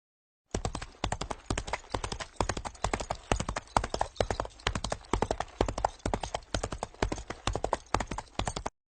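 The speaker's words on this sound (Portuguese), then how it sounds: "Olhei e contemplei um homem amontado num cavalo branco. Ele estava galopando" A white horse gallops with steady, rhythmic hoofbeats that clip-clop loudly and evenly throughout, close by and alone with no voices.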